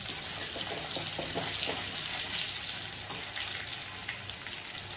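Potato pieces frying in oil in a pan while cooking a prawn and banana-flower dish, giving a steady close sizzle with scattered crackles throughout and no voices.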